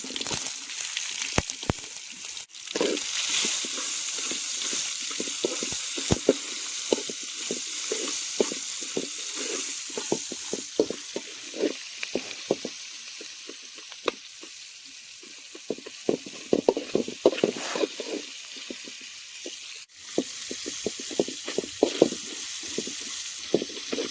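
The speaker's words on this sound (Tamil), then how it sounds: "இப்போ வந்து நம்ம வெங்காயத்தை போடலாங்க" Onions frying in a pan of oil with curry leaves for a Tamil spicy chicken roast, a steady loud sizzle and crackle with scattered stirring scrapes throughout, no voices.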